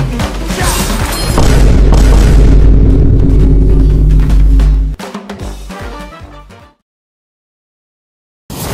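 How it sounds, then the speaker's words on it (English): An enemy turret blows up in a video game, a loud sustained boom that rumbles for several seconds, followed by scattered crashing debris, then silence and a final burst of noise. "Enemy turret destroyed."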